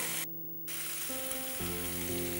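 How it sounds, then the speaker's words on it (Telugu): Vegetables for vegetable 65 being dropped into hot gravy in a pan, giving a loud steady sizzle that cuts out briefly and then resumes, with a faint tonal hum underneath. "దీనిలో మనం వెజిటబుల్స్ వేసుకొని, సో ఈ వెజిటబుల్స్ ఒక్కొక్కటిగా వేసుకుందాం."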